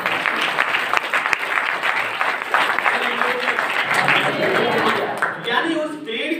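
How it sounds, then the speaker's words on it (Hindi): Church congregation applauding loudly during a Hindi-language sermon, a sustained dense wash of clapping that runs throughout and thins slightly near the end, with voices mixed in. "जोरदार ताली बजाइए"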